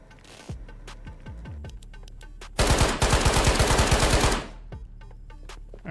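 Gunfire in the video game Ghosts of Tabor, where a burst of rapid shots rings out loud and close amid scattered single shots before and after.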